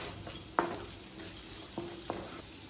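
Capsicum frying in oil for an egg bread masala, a soft steady sizzle with a few sharp clinks of a spoon stirring in the pan, quiet and close.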